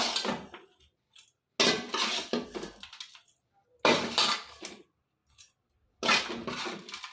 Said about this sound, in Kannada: ಈಗ ನಾನು ಎಲ್ಲ ಮಿಕ್ಸ್ ಮಾಡಿಕೊಂಡು ಮಿಕ್ಸಿ ಜಾರಿಗೆ ಹಾಕ್ಕೊಂತ ಇದ್ದೀನಿ